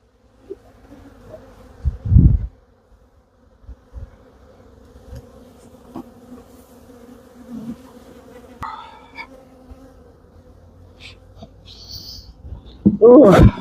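Honeybees from a massive colony buzz intermittently around an opened hive, sometimes close and sometimes farther off, mixed with thumps and rustling handling noises and a loud bump at the end.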